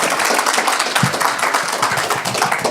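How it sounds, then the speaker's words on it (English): Applause from an audience at a science club talk as a guest is welcomed on stage, a dense steady wash of clapping at close range for the whole stretch with no pause. "Big round of applause for Jamie."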